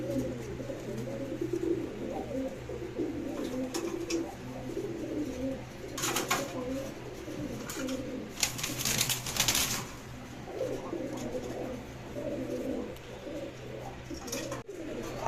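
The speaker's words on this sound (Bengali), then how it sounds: "আর ভিউয়ার্স নটটা কেমন ডাকে দেখেন" Male pigeons in a Bangladeshi loft pairs sale coo repeatedly in low rhythmic bursts, close by, with a few brief wing flaps and faint background noise.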